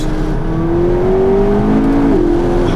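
A mid-engine supercar with a turbo accelerates hard, its engine note rising loud and close from inside the cabin as a steady droning tone climbs in pitch, then drops briefly at a gear change.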